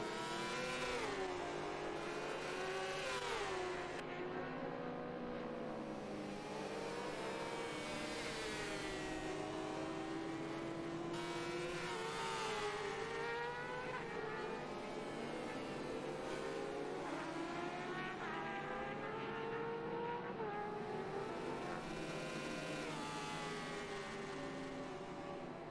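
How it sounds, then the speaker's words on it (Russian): A BMW motorcycle engine in RiMS Racing revs repeatedly, rising and falling through gear changes with a loud, sustained howl and no talk over it. "И звук у этого мотоцикла тоже приятный, мне нравится."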